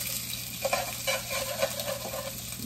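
Food frying in a hot pan gives a steady, close sizzle with a few brief bursts of stirring or spattering on top.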